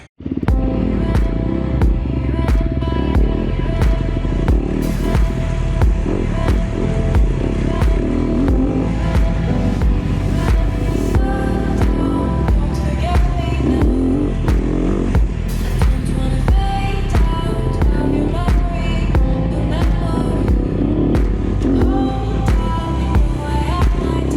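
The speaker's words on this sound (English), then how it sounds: "he suddenly hears my bike and gasses it" An enduro dirt bike engine revs continuously on a trail in Kamloops, a loud, close, rumbling drone with throttle surges and no talk.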